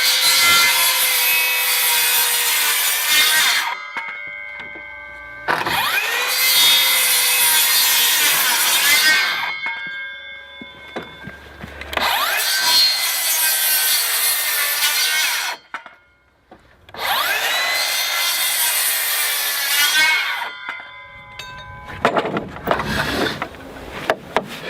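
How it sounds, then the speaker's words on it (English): Power saw cutting notches 1.5 inches deep into the tops of wooden garden shed rafters: four loud, sustained whining cuts of several seconds each, separated by brief pauses, then a shorter rough burst at the end. "So right now I'm cutting the notches on top of these two rafters here for our lookouts."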